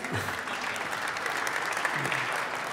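An audience at a company launch event in Barcelona claps steadily, a dense even wash of applause lasting a few seconds with no pauses.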